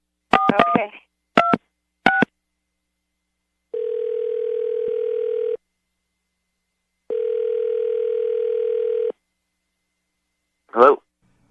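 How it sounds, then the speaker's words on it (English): A telephone number is dialed with DTMF keypad tones: three quick bursts of beeps, then two long steady ringing tones, followed by a brief voice at the very end. "we'll call him right now and see if we can get him on the phone"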